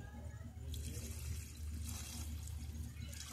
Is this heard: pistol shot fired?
no